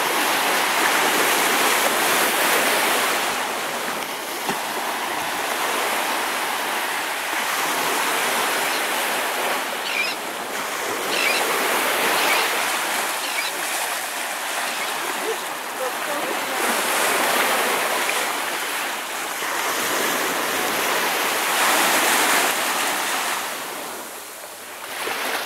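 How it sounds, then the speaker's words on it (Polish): Baltic Sea waves meeting and crossing on the shore, a steady broadband wash of surf that swells and recedes in slow surges, close and loud throughout with no voices. "Jak się pięknie fale krzyżują,"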